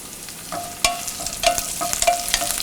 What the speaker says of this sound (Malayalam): ഇതിലോട്ടിനി നമ്മൾ കട്ട് ചെയ്ത് വെച്ചിരിക്കുന്ന വറ്റൽമുളക്, 2 തണ്ട് കറിവേപ്പില എന്നിവയിട്ട് വഴറ്റുക